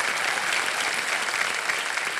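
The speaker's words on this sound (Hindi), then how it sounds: "और ताली बज जाए इनके लिए।" Studio audience applause on the KBC television quiz show, a dense, even burst of clapping that fills the short stretch at steady loudness.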